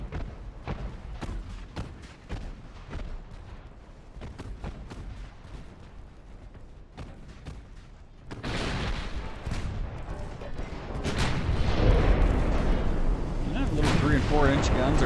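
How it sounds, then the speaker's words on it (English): Battleship main guns firing in the naval game Ultimate Admiral: Dreadnoughts, a string of sharp booming shots at first, then heavier sustained rumbling salvos and explosions building louder toward the end. "34-inch guns are actually causing a little bit of damage to the battleship."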